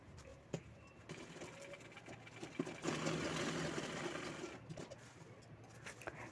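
A sewing machine stitching a handbag lining runs in a quiet burst of rapid stitching midway, framed by softer clicks and pauses.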